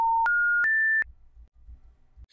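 Three rising electronic tones play in quick succession, like a failed-call intercept signal on a call from a VoIP softswitch to an unrouted New York number, followed by faint low rumble and silence.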